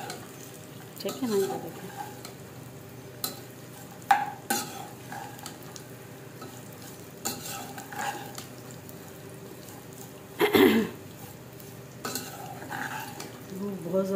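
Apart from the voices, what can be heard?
dry fruits roasting and stirred in a pan for kheer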